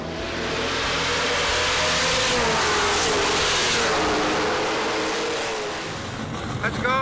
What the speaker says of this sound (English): Now it's time for Gene to put the hammer down and see what his car can do.